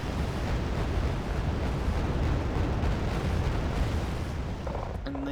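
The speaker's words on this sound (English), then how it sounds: "some very good side shots here from the BMP2s" Continuous loud rumble of cannon fire and explosions from BMP-2 infantry fighting vehicles in the Wargame Red Dragon strategy game, a dense wall of blasts and booms with no talk over it.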